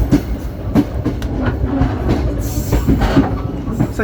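KA Airlangga, an economy-class passenger train on the Jakarta–Surabaya line, rumbles along the rails near Jatibarang station in Indramayu, with loud rolling clatter, repeated rhythmic wheel clicks and a brief high squeal partway through.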